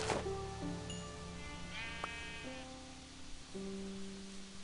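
Sheep in the Minecraft video game bleat repeatedly: several drawn-out, wavering electronic bleats follow one another, clear and close, with steady game background noise and no talk.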